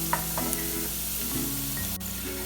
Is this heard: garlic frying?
yes